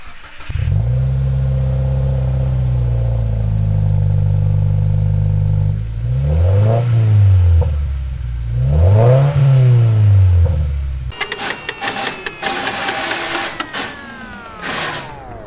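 A stock 2015 Subaru WRX fitted with an Invidia R400 exhaust revs up loudly and repeatedly, its engine note rising and falling in several blips before a harsher, raspier high-rev section near the end, with no talking.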